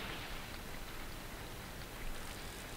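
Rain in the Super Black Bass fishing video game at Skywater Lake forms a faint, even hiss that stays constant throughout.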